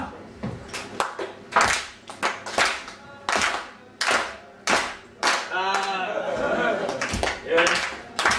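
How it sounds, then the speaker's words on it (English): A street-show crowd claps on cue during an escape from a straitjacket, uneven claps arriving in loose bursts with cheering voices and shouts mixed in. "I want you to clap."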